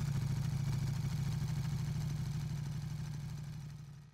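A Kawasaki KZ400 motorcycle engine idles in the Ride 2 racing game, a steady low rumbling throb that holds for a few seconds before fading out, with no voices.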